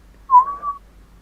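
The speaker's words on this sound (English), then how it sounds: "He sings and he whistles" A man whistles a short tonal phrase, one bright note that swells and glides slightly in pitch for about half a second, fairly close and alone with no talking.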